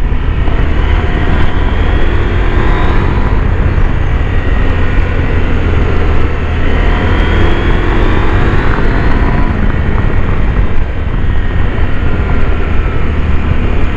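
A Husqvarna Norden 901 motorcycle engine drones loudly and continuously, with rising pitch sweeps as it pulls and accelerates, heavy wind rush mixed in and no speech.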